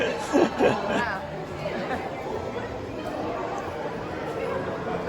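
Steady crowd chatter at a busy theme-park attraction in Osaka, Japan, a dense, even babble of many overlapping voices at moderate distance, with a couple of louder nearby voices briefly standing out near the start.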